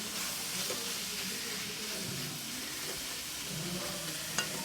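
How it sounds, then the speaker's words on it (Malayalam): Ginger garlic paste, tomatoes, curry leaves and coriander leaves sautéing for a Kerala-style tuna roast: a continuous moderate sizzle with occasional stirring scrapes and a small clink near the end. "ഇഞ്ചി വെളുത്തുള്ളി പേസ്റ്റ് ഇടുക. പിന്നെ 2 ടൊമാറ്റോ, നമ്മൾ കറിവേപ്പില, കുറച്ച് മല്ലിയില, ഇതെല്ലാം ഇട്ട് നന്നായിട്ട് വഴറ്റുക"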